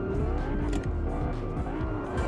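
A car drives in Fortnite, its engine holding a steady, loud, continuous roar close up from start to finish, with occasional tire noise.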